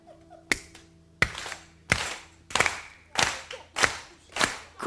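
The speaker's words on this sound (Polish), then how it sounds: "jak Państwo równo klaszczą" A cabaret audience in Poznań claps together in an even rhythm, sharp unison claps about every two-thirds of a second, loud and close, with faint voices in the room before the clapping begins.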